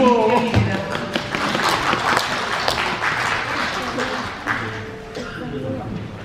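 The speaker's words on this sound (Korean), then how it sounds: "박수!" An audience at a literary society publication launch and new-writer award ceremony in Atlanta breaks into a burst of clapping that tapers off over several seconds, with voices mixed in.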